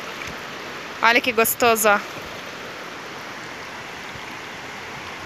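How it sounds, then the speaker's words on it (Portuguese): A steady broadband rush of water from a stream and waterfall at the Salto das Orquídeas fills the scene, with a person speaking briefly over it near the start. "E já tô aqui na beira da cachoeira."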